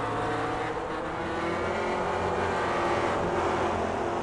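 Race cars lapping Virginia in a sim racing video game, several running close together in a train, produce a continuous droning engine whine with layered revving tones, steady and loud with no talk over it.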